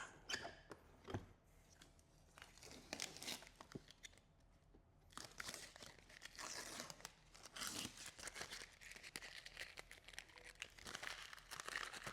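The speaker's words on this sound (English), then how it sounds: "So I'm going to go ahead and remove our tape." Tape peeled off a motorcycle hard bag while fitting a 5x7 to 6x9 speaker lid adapter, giving close, quiet crinkling, tearing and crackling that comes in bursts and runs on continuously.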